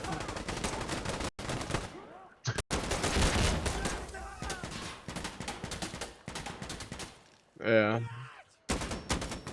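Gunfire crackles in Insurgency Sandstorm, dense bursts of automatic fire and single shots broken by short silences, with a brief voice heard between volleys.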